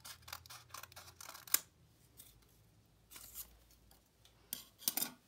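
Scissors snip through folded paper close up, a quick series of crisp cuts followed by a pause and then a few more sharp snips near the end, with no talking.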